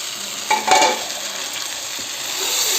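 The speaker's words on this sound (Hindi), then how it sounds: "तब ये चम्मच चला दे" A spoon stirring taro leaf greens in a pan, with a couple of scraping clinks early on over a soft continuous sizzle, close by and without speech.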